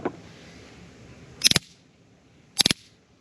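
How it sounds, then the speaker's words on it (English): A stun gun flashlight fires two short electric crackling bursts, each a rapid buzzing cluster of snaps, loud and close against a quiet background. "So that's a very disarming sound that would stop probably most dog fights."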